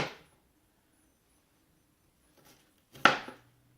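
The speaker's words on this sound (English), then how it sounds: "you just want to make sure to cut all the way through" A kitchen knife slices through a tight onion during vegetable prep, with a few crisp, close chopping strikes on a cutting board separated by quiet pauses, the last cut being the loudest.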